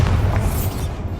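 Bombarda spell explosion in Hogwarts Legacy: a short, loud, deep boom with a rumbling burst that fades within about a second.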